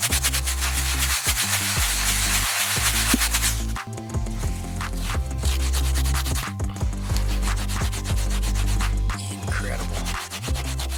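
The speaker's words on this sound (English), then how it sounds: "So we'll wipe that one down." Continuous close rubbing and scrubbing on a mildewed boat vinyl seat during cleaning, steady rhythmic friction strokes with brief pauses, no voices.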